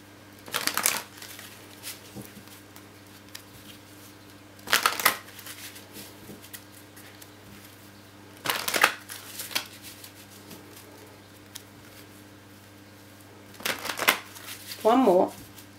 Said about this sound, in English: I'm just going to shuffle again for you guys to get some intent in